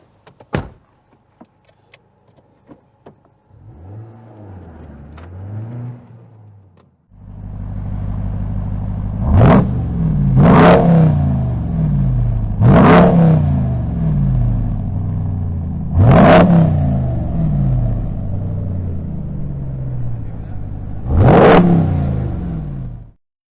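A 2018 Honda Civic Type R: a door thuds shut and a brief whirring follows, then the engine starts and rumbles close by, revving sharply five times in a steady rhythm as the car pulls away.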